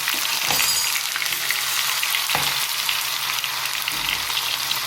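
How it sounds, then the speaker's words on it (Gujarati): Bay leaf, tomato, garlic and onion frying in oil in a pan, a steady close sizzle with a couple of soft stirring clinks, no voices. "3-4 પરી જેવું તેલ નાખ્યું, એક તમાલપત્ર, ટામેટાં, લસણ અને ડુંગળી"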